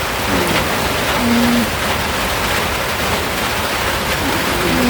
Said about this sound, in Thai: ฝนตกจ้ะ